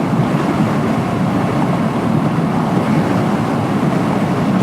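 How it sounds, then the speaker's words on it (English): Strong wind batters the rider of an Eclipse Hunter 350 motorcycle on a Texas road trip, a loud, constant roar of buffeting with no break. "Man, is it windy today."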